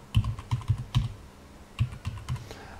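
Password being typed on a computer keyboard to log into a Hikvision ColorVu IP camera, a short run of soft close key taps in two small groups, with no speech.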